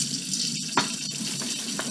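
Serrano peppers rinsed under a running kitchen tap, a steady close hiss of flowing water with a few brief splashes and clicks as the peppers are handled.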